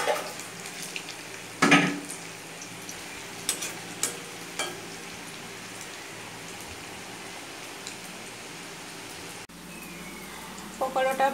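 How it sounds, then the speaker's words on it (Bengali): Pakoras fry in oil in a home kitchen with a soft, continuous sizzle, broken by a loud utensil clatter early on and a few lighter taps and scrapes as the pieces are stirred and lifted out. "পকোড়াটা ভাজা হয়ে গেছে"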